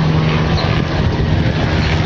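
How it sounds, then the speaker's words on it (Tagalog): Helicopter flying overhead above an outdoor home garden, a steady loud broadband rotor and engine roar that stays constant and close throughout, with no talking. "Oy, may helicopter."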